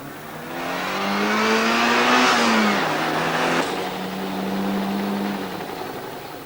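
BMW and Porsche cars accelerating side by side in a drag race final, engines rising in pitch through the gears with a brief tire squeal, loud and close, then holding a steady high roar.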